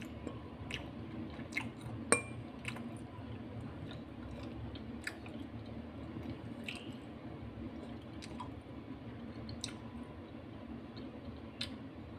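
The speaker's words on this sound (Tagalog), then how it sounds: "Ito yung tikiman portion." Soft, close chewing of palitaw, sticky boiled rice cakes, with moist squishing and smacking sounds repeating irregularly over a quiet background, no talk.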